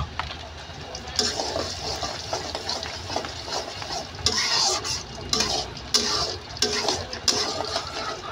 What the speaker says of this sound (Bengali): এবার দিয়ে দেব তেজপাতা আর শুকনো মরিচ